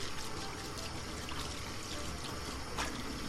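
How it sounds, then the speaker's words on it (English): Cleaning cloth being rinsed out under running water, a steady soft pour and trickle throughout with occasional splashy bursts, fairly quiet and with no talking. "You notice how many times I rinse out the cloth?"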